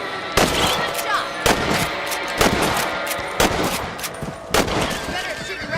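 Rifle shots fired at rabbits in the Western video game Red Dead Redemption, five or six sharp cracks at roughly one-second intervals, each with a ringing echo over an outdoor ambience.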